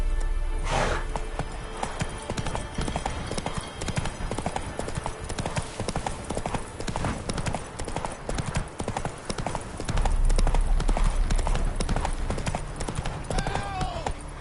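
Roach the horse's hooves clip-clop steadily in The Witcher 3, a loud, continuous trotting rhythm close by, with game voices and a brief whinny mixed in.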